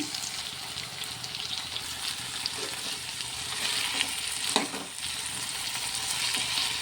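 Potatoes frying in a pan with ginger garlic paste, a steady moderate sizzle with occasional stirring clinks and scrapes, close and without talking.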